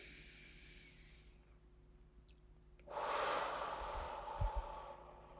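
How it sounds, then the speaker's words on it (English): A single deep breath in during a guided breathing exercise, faint at first and then swelling into a long, audible airy inhale close to the microphone. "Big breath in."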